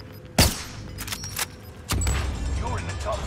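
Video game gunfire: a sharp close shot, then a few lighter cracks, with a louder burst of noisy shooting near the end and a voice talking over it.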